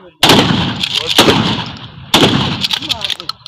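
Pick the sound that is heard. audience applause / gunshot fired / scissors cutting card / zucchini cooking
gunshot fired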